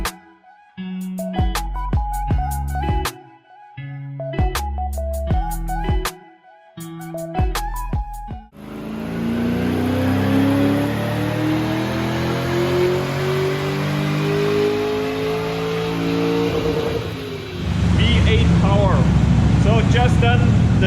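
A BMW E30 drift car with a 7.4L V8 on a dyno, first sharp blips of the throttle in short bursts, then a long loud rising full-throttle pull that winds up in pitch and cuts off.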